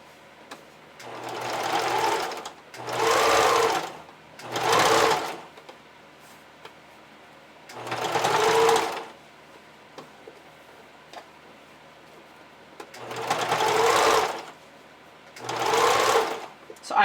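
A sewing machine stitches elastic ruffle trim in six short rapid bursts of whirring, ticking stitches separated by quiet pauses, close and clear.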